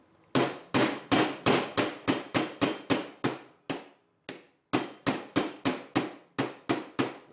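A brushless NTM Propdrive motor shaft held in a rubber-jawed vise is struck with a hammer, about twenty sharp, close metallic blows in a steady rhythm, with a brief pause midway before the strikes resume.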